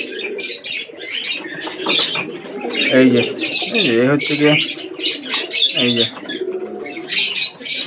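Pigeons and their young coo in soft, repeated rolls at night during feeding, heard underneath someone talking close by throughout.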